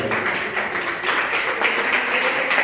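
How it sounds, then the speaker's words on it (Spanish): A church congregation claps together in strong, dense applause at a Sunday school service, a steady close wash of hand claps filling the room without break, with no talk over it. "Denle un fuerte aplauso al Señor"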